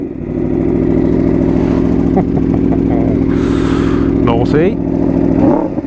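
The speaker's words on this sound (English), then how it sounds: "And let's start her up" An Aprilia RSV4 RF limited-edition sport motorcycle engine runs loudly and steadily nearby, with short revs and clattering mechanical noise, and someone speaks briefly over it.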